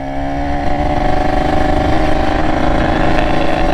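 A motorcycle engine, just back from a front shock absorber service, runs close by at a steady, loud idle with a slight rev. It is heard alone, with no talk.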